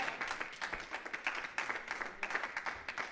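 Church congregation clapping in cheer, a moderately sized crowd giving rhythmic, somewhat faint applause in pulsing waves, heard at a modest distance in a reverberant hall.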